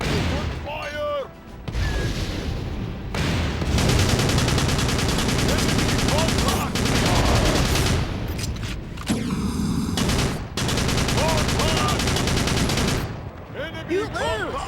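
Continuous gunfire in the Battalion Wars console war game, a dense, loud barrage of rapid shots and bursts running almost nonstop with only brief breaks.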